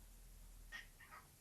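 A house cat makes odd noises indoors: a couple of faint, short meow-like calls, one after another, over quiet background hiss.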